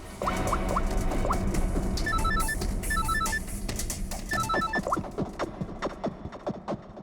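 A phone rings in short repeating electronic bursts, mixed with scattered clicks and rustling nearby.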